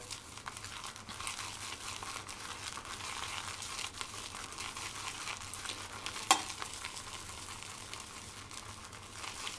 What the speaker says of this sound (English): this brush is ridiculous how fast it builds up an awesome lather